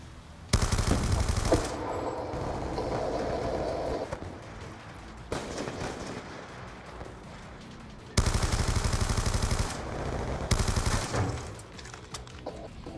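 Bursts of rapid machine-gun fire from an LSAT light machine gun in Call of Duty Black Ops 2, several loud sustained volleys separated by short pauses.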